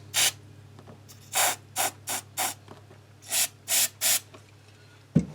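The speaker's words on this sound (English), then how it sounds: "I'm spraying a little electronic cleaner in there." Electronic cleaner sprayed into the three-way switch of a 1985 Fender HR Stratocaster, several short hissing bursts in uneven rhythm over a low hum, close and clear, ending with a soft knock.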